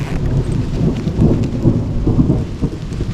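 Thunder rumbles continuously through a rainstorm beside a lone house near Kadaganalli, Sathyamangalam at night, the deep roll swelling and easing under steady rain hiss, with no voices.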